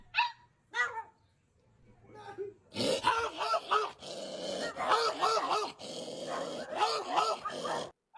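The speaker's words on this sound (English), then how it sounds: "That sounded like a real barking." A dog barks in a zombie video game, a few sharp barks early and then a loud run of rapid grunting barks and growls, with a man reacting in speech around it.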